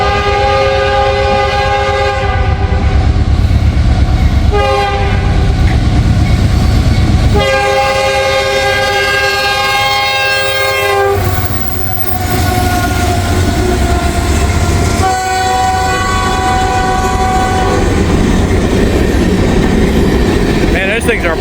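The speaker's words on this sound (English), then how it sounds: "we got a mixed manifest here. Just lots of grainers behind the lead locomotives." A mixed manifest freight train of mostly grain hoppers rolls past behind its lead locomotives in Wyoming, with a steady loud rumble, rail clatter and repeated long horn blasts near at hand.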